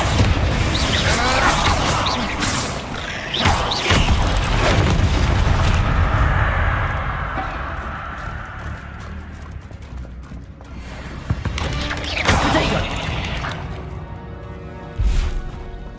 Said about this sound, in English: Expelliarmus! Confringo! Bombarda!